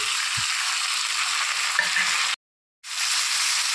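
Ground onion, ginger and green chilli paste sizzles loudly in hot oil over already-fried vegetables, a dense steady frying hiss that cuts out for a moment before resuming.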